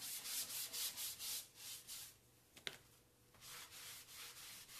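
A cloth wipes and buffs Annie Sloan wax on furniture, making rhythmic soft rubbing strokes close by, about a dozen back-and-forth passes with a brief pause and a small tap in the middle.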